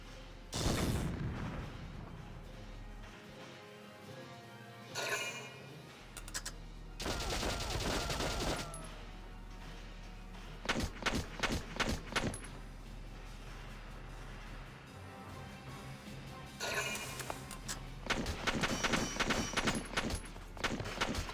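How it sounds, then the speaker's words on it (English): Gunfire from the video game Valkyria Chronicles sounds in repeated rattling volleys and bursts, loud at times and separated by quieter stretches of game sound, with no talking. "I wish they wouldn't fire when that tank's there."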